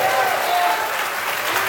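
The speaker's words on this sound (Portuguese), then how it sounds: "Se pode aplaudir ou glorificar a Deus," A church congregation applauding, a dense, continuous wash of clapping that holds steady for the whole moment, with voices mixed into the crowd noise.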